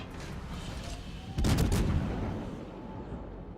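A heavy naval gun blast from a cruiser battle in World of Warships, a single booming volley around mid-clip that rises above the steady engine and ocean background, then fades out slowly.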